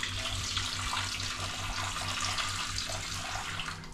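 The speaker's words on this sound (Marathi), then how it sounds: "पण आता आपण ह्याला पाण्यात भिजवूया." Running tap water pours steadily over frozen prawns soaking in a sink or bowl, a continuous close splashing wash with a low hum underneath and no talking.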